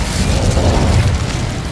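In the Hogwarts Legacy video game, the Incendio fire spell goes off as a loud, roaring blast of flame, a dense continuous whoosh that stays strong throughout with no voices over it.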